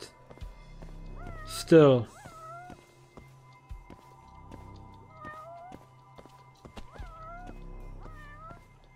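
Cats in the video game Judgment meow repeatedly, several clear, moderately loud mews spaced across the stretch, with a person talking over the game sounds and footsteps.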